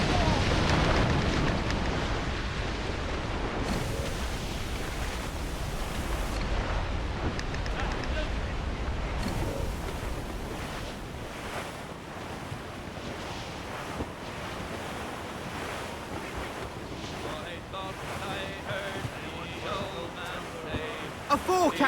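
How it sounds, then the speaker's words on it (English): Heavy ocean swell in Assassin's Creed Rogue during naval sailing, a continuous loud rush of surf, wind and crashing water surging throughout, with voices calling out over it. "Huge swell rolling into starboard!"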